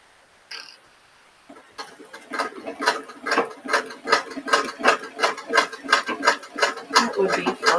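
A sewing machine stitches along drawn lines, starting after a brief click and then running in a loud, regular, rapid mechanical chatter close by, with no voices heard.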